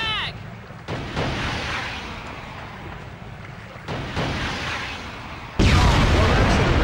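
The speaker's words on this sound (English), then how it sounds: "Look out! Incoming frag!" A frag grenade blast in Killzone on PS2, heavy booming explosions and gunfire in a battle, with one loud sudden detonation near the end over a sustained rumble.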